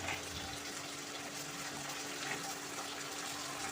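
Water poured from a tap or vessel into a pan of drumsticks (moringa pods) cooking for a kuzhambu, a steady gushing flow heard up close with no speech.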